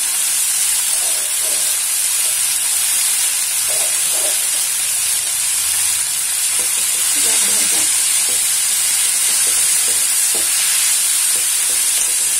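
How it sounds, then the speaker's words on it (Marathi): Tomato and other ingredients sizzle and roast in a pan on high flame, a loud steady hiss with occasional soft stirring scrapes running throughout. "हाय फ्लेमवर यालाही आपण भाजून घेऊया"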